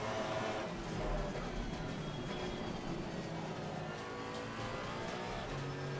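A Porsche 718 Cayman GT4 race car in Assetto Corsa Competizione, its engine droning steadily at high revs with slight pitch shifts, a continuous fairly quiet in-game motor sound with no talk.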